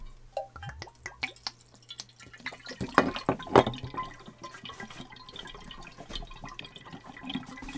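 Vodka poured into a jar of artichoke and orange peel for homemade herbal bitters, a soft gurgling, splashing pour with scattered drips, moderately close and fairly quiet.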